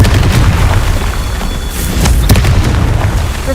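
A loud, rumbling blast from the Confringo spell, a sustained low boom filling the whole stretch with a sharper burst near the middle and no voices over it.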